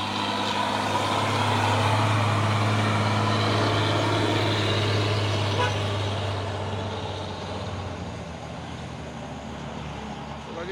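A Hino box truck with a Euro 4 engine and a Thermo King refrigeration unit runs close and loud, a steady engine drone with a low hum that holds for about eight seconds and then eases slightly.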